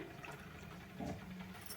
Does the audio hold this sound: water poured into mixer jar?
yes